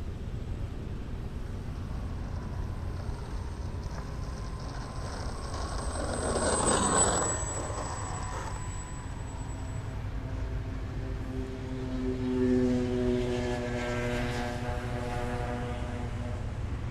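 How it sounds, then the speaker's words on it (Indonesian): An RC model N250 airplane with propeller engines taking off and flying at a circuit in Boyolali, heard as a steady droning whine over outdoor background noise that swells as the plane passes. "Terbang pesawatnya."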